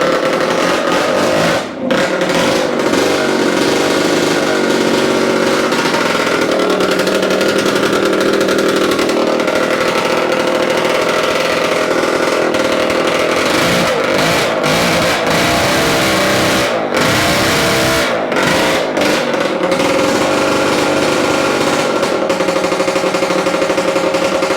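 A Yamaha AT-2 MX motorcycle engine with ignition trouble runs loud and close after starting, holding a rough, steady two-stroke buzz with uneven revving and sputtering throughout, no voices.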